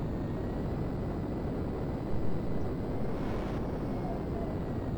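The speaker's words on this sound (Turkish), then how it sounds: "Lazer bayağı bir hızlı uçak" Steady roar of a Lazer jet fighter flying in GTA V with the Turkish Stars aerobatic livery mod, a continuous broadband engine and wind rush that holds at an even level throughout, with a slight swell near the middle.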